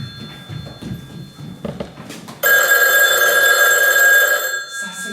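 A telephone bell rings loudly and continuously for about two seconds, sharp and close, after quiet conversation and a few thuds; a brief voice follows as it stops.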